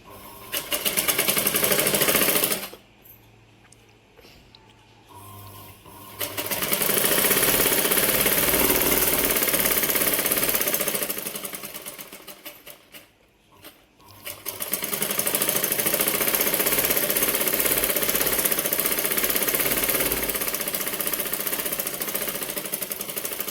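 A sewing machine stitches fabric cut from an old saree, its loud, steady mechanical whir running in long bursts broken by two short pauses.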